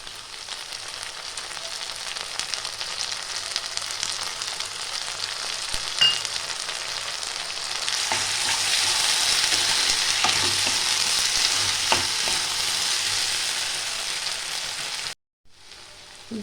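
Onions and potatoes frying in a pan as ginger garlic paste goes in, a steady close sizzle throughout with occasional stir scrapes and a brief cut near the end.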